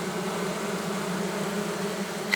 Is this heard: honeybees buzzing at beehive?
yes